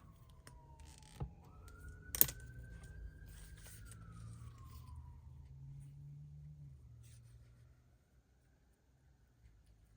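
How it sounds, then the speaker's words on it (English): Faint emergency sirens wail from outside, rising and sliding in pitch at a distance, while quiet clicks and tapping from indoor craft work sound nearby. "There goes the sirens again."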